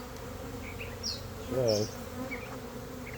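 Honey bees humming around an open hive during a mite-check inspection, a steady close drone that swells briefly as one bee passes near, with a single short spoken word.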